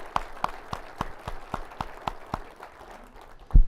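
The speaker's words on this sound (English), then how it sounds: "Let's give them a round of applause, please." Audience applause at a city presentation, a thin scattered clapping of separate, fairly distinct claps, ending in a louder thump.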